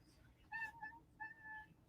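A house cat meows twice in close succession, then gives a longer drawn-out meow, fairly near and moderately loud over a quiet room hum.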